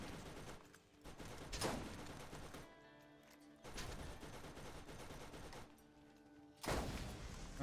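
Turret fire in the Borderlands shooter game comes in bursts of rapid gunfire, separated by quieter stretches of mechanical hum, with a loud burst near the end.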